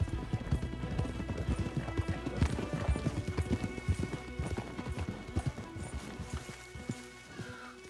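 Horses gallop with rapid, overlapping hoofbeats in the western game Red Dead Redemption 2, close and loud before the pace eases and fades, with a brief neigh amid the pounding.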